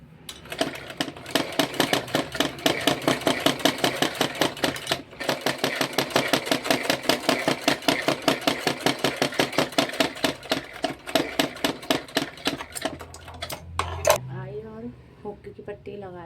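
A sewing machine runs in a steady, rapid stitching rhythm while sewing a folded fabric strip for a belt blouse, close and loud for most of the stretch, with a short pause partway and a voice talking over the start and end.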